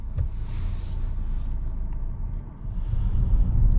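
A 2025.5 Volvo XC90 B6 Ultra pulls away on a cold day, heard as a low, steady interior road rumble and muted engine drone that swells slightly toward the end, with no talking.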